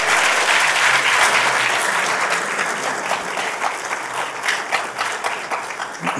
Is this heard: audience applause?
yes